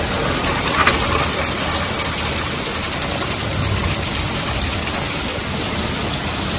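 A Raleigh bicycle hub freewheel clicks in a fast, even ratcheting rhythm, close and fairly loud, over a steady background hum.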